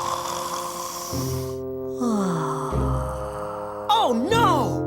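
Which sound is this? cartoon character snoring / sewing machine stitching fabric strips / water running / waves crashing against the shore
cartoon character snoring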